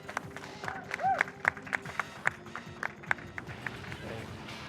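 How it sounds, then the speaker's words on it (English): A small audience at the Fastest Furs speedrun marathon gives scattered, sparse applause, with distinct individual claps spaced out over a low background murmur and talk. "Let's give a big round of applause for that one."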